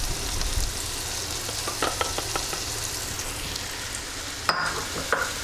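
Onions with Montreal steak seasoning frying in a pan, a constant close sizzle with occasional sharp clicks of a spoon stirring against the pan, no talking.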